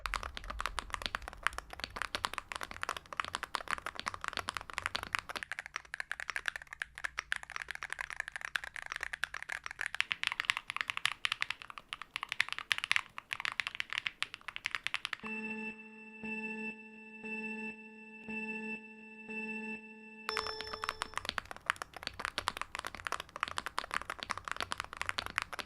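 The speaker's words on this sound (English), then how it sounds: "I'm gonna have 3 different typing tests completely blind so you won't be able to see which keyboard it is" Keyboard typing on a Hall effect, TMR or custom mechanical keyboard, with three test passages of dense rapid keystrokes close up; a steady tone plays between the second and third passages.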